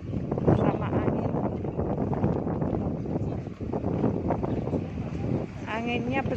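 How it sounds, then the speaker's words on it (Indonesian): Strong wind roars and buffets the microphone steadily during a rainstorm in Hong Kong, with a brief voice surfacing near the end. "Anginnya besar, tanda-tanda 8 guys"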